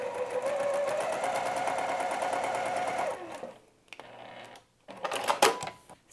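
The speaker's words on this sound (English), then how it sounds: "I'm going to sew this side the exact same way that I sewed the other side." Home sewing machine runs steadily for about three seconds, stitching a cotton quilt seam on a tree-pattern block, then stops, followed by a few soft handling clicks and a brief burst of fabric rustle.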